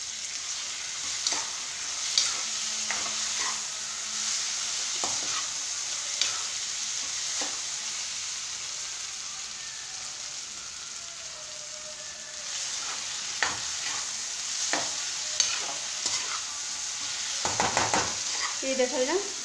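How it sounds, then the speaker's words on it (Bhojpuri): Onion, tomato and capsicum for a matar paneer curry stir-fry in a pan with a soft continuous sizzle, punctuated by intermittent scraping strokes of a spatula and a louder clatter near the end. "ये देखल जा प्याज टमाटर शिमला मिर्च तीनों थोड़ा लगभग भुना गई बा।"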